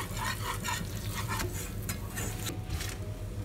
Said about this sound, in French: mélange pour que toute la farine soit incorporée dans le beurre